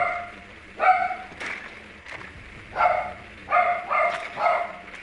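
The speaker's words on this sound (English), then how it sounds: "shut shut up with all that barking." A nearby dog barks loudly in repeated bursts: a single bark, a pause, then a run of several quick barks, heard during a Rainbow Six gaming session.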